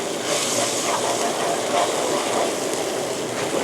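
Coconut milk boiling in a pot for a Thai dish, a steady dense bubbling hiss that holds close and even throughout without pause.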